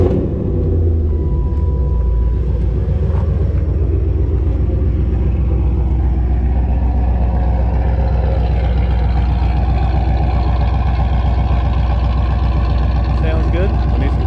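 A 1995 Camaro Z28 with an LT1 V8, running rich, idles loudly and close with a deep, steady, lumpy rumble; a voice talks faintly under the engine for much of the stretch.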